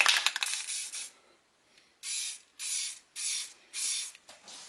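Spray paint in satin ivory is applied to a toy's handle in short, close hissing bursts. One longer spray comes first, then four or five brief, evenly spaced squirts with quiet gaps between them, and there is no talking.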